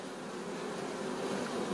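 Honeybees buzz at an open beehive during pre-winter colony checks at a packaged-bee apiary, a dense, steady, close-up hum with no talking.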